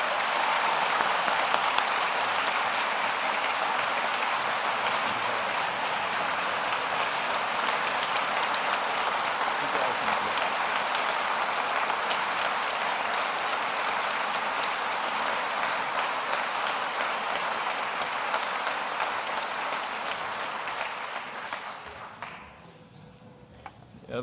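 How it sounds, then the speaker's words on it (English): Sustained applause from a university commencement crowd at a Kansas State veterinary medicine graduation, a dense steady wash of many hands clapping in a large hall for over twenty seconds before tapering off. "join me in a big round of applause for Ralph's service to Kansas State Universi"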